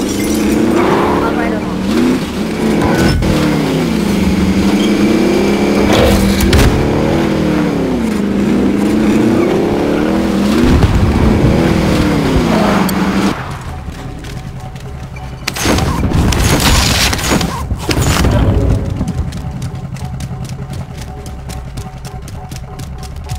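Vehicle engine in the video game Call of Duty Warzone during a Plunder round, a loud continuous drone rising and falling in pitch as it revs, with bursts of gunfire and impacts and players talking over it.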